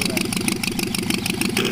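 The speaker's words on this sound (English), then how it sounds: "The Ganagobie is powered by a Volkswagen engine, turning a brightly striped propeller." A Lobet Ganagobie ultralight aircraft's Volkswagen engine runs with its propeller turning, a loud, steady, throbbing drone heard close by.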